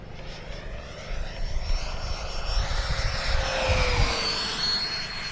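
An HSD 90mm Viper RC jet makes a high-speed pass down the runway, its turbine roar rising and sweeping past at close range with a Doppler whine, alone without talk.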